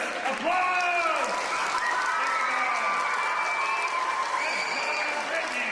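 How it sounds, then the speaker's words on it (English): An audience at a live stage show cheers and applauds, a sustained crowd roar with whoops and shouts rising over steady clapping, loud and continuous throughout. "Your thunderous applause!"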